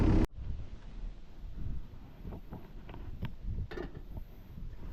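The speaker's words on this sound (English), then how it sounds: "That wind is vicious." Strong, cold wind blows across an outdoor fence row being cleared with farm equipment, a steady low rumble buffeting the microphone, with a few faint clanks and knocks underneath.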